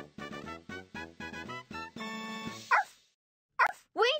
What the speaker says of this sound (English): We found four puppies.